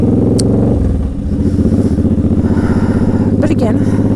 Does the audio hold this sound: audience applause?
no